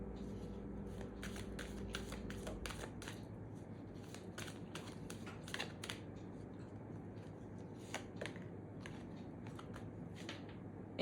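Soft riffling and snapping of tarot cards being shuffled and drawn close by, in quick irregular bursts over a quiet room hum.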